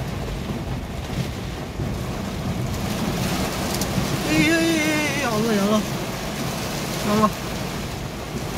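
Strong gusty wind during a sudden bad storm on a road in Tasikmalaya, a constant rushing roar buffeting the microphone, with a person exclaiming briefly over it.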